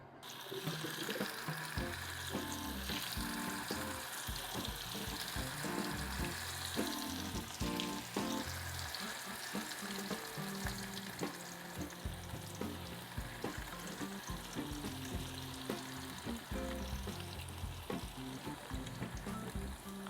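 Tofu frying in hot oil for a spicy coconut-milk adobo, with a steady, dense sizzle and crackle close by. It carries on without pause alongside clinks and what may be running tap water.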